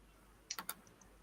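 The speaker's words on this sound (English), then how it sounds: "I heard clicking." Two or three quick, faint computer keyboard and mouse clicks land close together in an otherwise quiet room.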